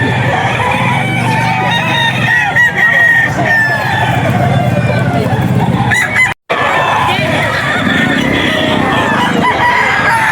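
Roosters crow repeatedly among clucking chickens at a busy Bocaue poultry auction market, layered and continuous against dense crowd noise, with a brief dropout near the end.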